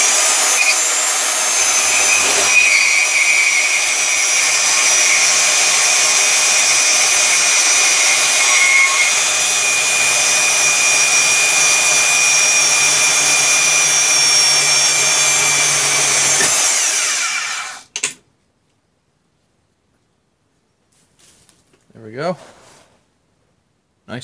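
A power tool cuts through metal stock for a seat belt bracket on a Fairmont MT19A motorcar, a loud steady whine lasting about seventeen seconds before stopping abruptly, with brief faint sounds afterward.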